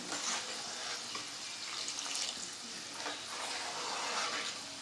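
Moong dal frying in hot oil, a dense, steady sizzle and fizz of bubbling with no talk, continuous and moderately close throughout.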